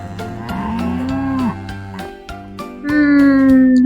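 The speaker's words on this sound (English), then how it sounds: "Yes, kids, it's a cow." A cow moos in long, loud, drawn-out calls, a couple of lowing bellows in close succession rising and falling in pitch.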